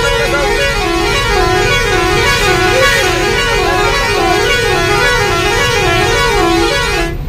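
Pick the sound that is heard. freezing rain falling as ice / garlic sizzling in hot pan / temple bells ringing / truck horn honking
truck horn honking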